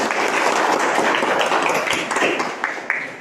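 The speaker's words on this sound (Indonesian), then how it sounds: "Tepuk tangan dulu buat kita semua." Dense, steady hand clapping from a classroom group, loud and continuous for about three seconds and tapering slightly at the end.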